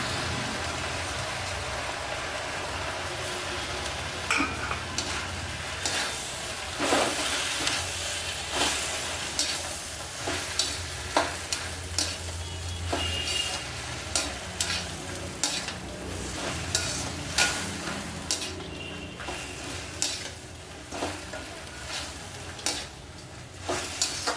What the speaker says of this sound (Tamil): கொஞ்சம் கீரையும் போட்டு சேர்த்து வதக்கிடுவோம்